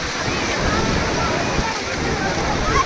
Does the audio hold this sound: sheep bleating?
no